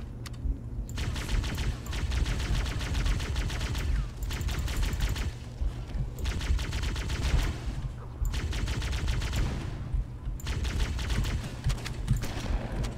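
Assault rifles in Halo CE rattle in long automatic bursts, dense rapid gunfire that repeatedly stops briefly and resumes over a low steady game background.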